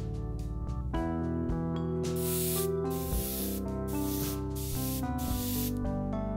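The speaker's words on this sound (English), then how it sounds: "from now on every color will be sprayed from the front to the back." An airbrush sprays a mix of transparent yellow and pearlized gold Createx paint onto a perch fishing lure, giving a steady close hiss that pulses on and off in short bursts over a sustained background tone.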